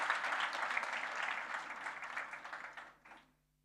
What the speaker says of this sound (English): Could we give a clap to Siaya County?